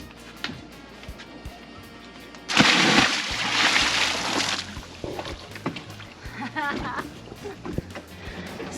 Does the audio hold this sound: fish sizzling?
no